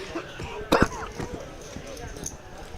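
A single short cough bursts out once amid quiet room noise, fairly close and brief.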